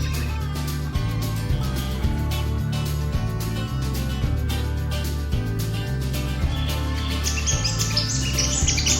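Birds chirping and calling around the red blossoms of an umbrella tree in the Daintree Rainforest, Far North Queensland, during the wet season, with repeated tweets over a steady low background and a burst of higher calls near the end.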